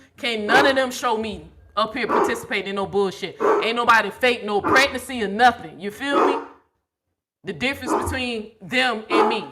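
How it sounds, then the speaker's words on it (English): A house dog barking at people outside sounds in sharp bursts mixed with someone talking steadily close up, the barks partly masked by his voice before a short pause and more talk. "That's my dog letting us know people outside."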